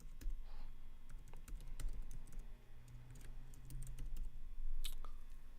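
Close, quick typing on a computer keyboard, a steady patter of key clicks with brief pauses and a few sharper taps, heard alone without speech.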